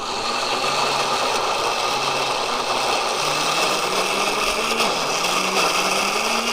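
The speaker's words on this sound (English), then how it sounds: "Everything goes in the blender," A countertop blender runs steadily for the whole stretch, blending energy bite ingredients with a loud, continuous whirring motor drone that shifts slightly in pitch as the mix churns.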